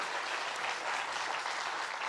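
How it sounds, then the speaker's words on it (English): Steady, dense applause from an awards-ceremony audience, a continuous even clapping that fills the whole moment at moderate distance. "can we give Stu Hennigan a round of applause as well"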